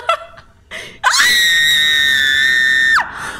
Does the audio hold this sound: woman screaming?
yes